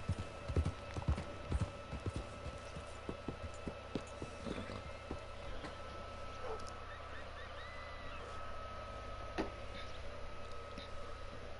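Steady horse hooves clip-clopping on a hard surface in the video game Red Dead Redemption 2, a rhythmic walking gait with a faint background hum, no talking.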